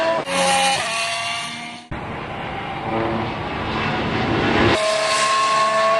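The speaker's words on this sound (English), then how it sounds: "Max Verstappen completed 73 laps for Toro Rosso" A Toro Rosso Formula One car lapping during winter testing at the Jerez circuit, its high-pitched engine whining loud and steady with harmonic tones, shifting as it passes and dropping briefly before surging back, no talk.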